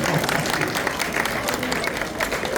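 Applause from the crowd at a goat show prize-giving ceremony in Petit-Canal, brisk, close clapping that runs continuously with some voices mixed in underneath.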